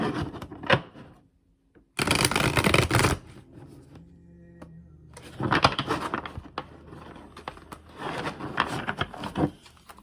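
Tarot cards are shuffled by hand close up, with several bursts of riffling and sliding card noise separated by brief pauses and soft handling sounds.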